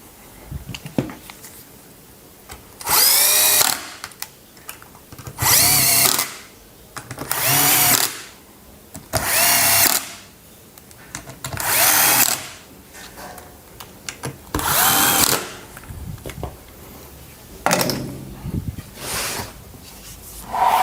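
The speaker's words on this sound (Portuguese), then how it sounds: "Aqui eu já tinha feito o pré-furo em todos, então eu posso ir direto com o parafuso." A power drill drives screws into pre-drilled wood while a modern rocking chair is built, in eight or nine loud, close bursts of one to two seconds each, with short quiet gaps between them.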